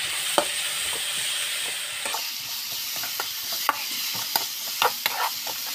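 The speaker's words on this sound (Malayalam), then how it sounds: "ഇനി ഇതിൻ്റെ അകത്തേക്ക് നമുക്ക് സവാള ചേർത്ത് കൊടുക്കാം. സവാളയുടെ ചേർത്ത് നമുക്കിതൊന്ന് വഴറ്റി കൊടുക്കാം." Onions sautéing with ginger and garlic for a Kerala-style chicken dosa filling give a steady close sizzle, with a spoon scraping and stirring the pan in sharp intermittent clicks.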